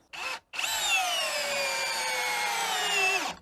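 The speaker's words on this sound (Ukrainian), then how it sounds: "Ну і одразу глухарик 6х100 на другій швидкості." A Prostormer cordless drill on second speed drives a 6x100 lag screw: a brief whir, a short pause, then a long steady high motor whine that winds down at the end, loud and close.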